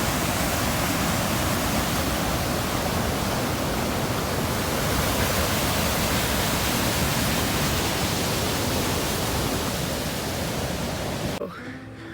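A rushing mountain stream on the Pacific Crest Trail between Bishop and Mammoth roars as a dense, steady wash of water noise, loud and close, then drops away abruptly near the end.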